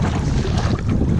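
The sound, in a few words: wind blowing on a lake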